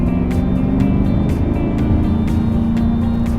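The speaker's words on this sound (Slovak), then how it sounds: "šoferujeme dieselové auto a ten zvuk je úžasný" An Audi SQ7 4.0 TDI V8 diesel of 2017 drives with a loud, steady engine drone and a deep low hum, holding a constant note throughout with faint ticking above.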